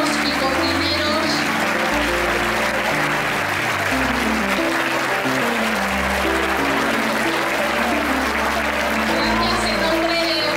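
A large audience of several hundred at a lacemakers' gathering in a theatre in Oliva, Spain applauds the waiters and cooks with loud, sustained clapping that fills the hall, with background music underneath.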